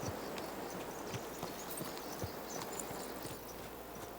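Horse hooves clip-clopping in the medieval game Kingdom Come Deliverance 2, a steady rhythmic walking gait over a constant outdoor ambience, moderately close.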